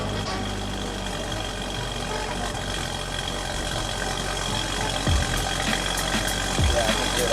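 A BMW N55 engine fitted with a new intake and downpipe idles steadily with a low, deep rumble that holds constant throughout, with a couple of brief low thumps near the end.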